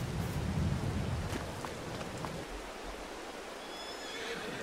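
Horses in the farming game Farming Simulator 22 whinny against a steady hiss of rain, the neighing fairly faint within the constant wet wash, with a brief high call near the end.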